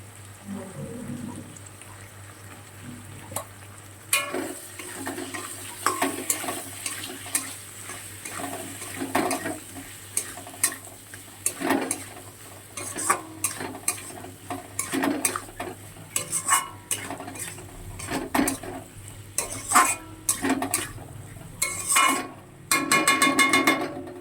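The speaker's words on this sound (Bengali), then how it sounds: "মশলাটা কষাবো" Spice paste of ginger, turmeric and chili powder sautéed in a pan, repeated spoon scrapes and metallic clinks over a low, continuous frying sizzle.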